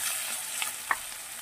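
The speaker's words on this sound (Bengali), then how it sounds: "ভালো করে নাড়াচাড়া করে নেব। একটু 1 মিনিটের মতন ভাজতে দেবো।" Whole spices for a tempering frying in a pan of oil with green beans and coriander leaves ahead, a steady soft sizzle broken by two brief scrapes of a spoon stirring, close and alone.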